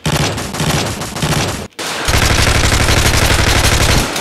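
Rapid automatic gunfire in a live-action Call of Duty parody, loud and close, with a dense burst of rattling shots, a brief gap, then a second sustained volley.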